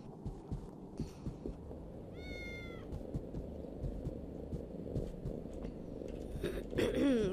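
A kitten meows in the Harry Potter and the Order of the Phoenix video game, a short rising and falling cry heard once and fairly faint, over a busy game soundtrack with soft thumping.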